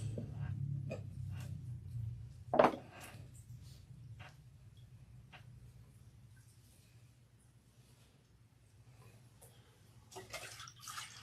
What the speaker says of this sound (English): Now I rinse.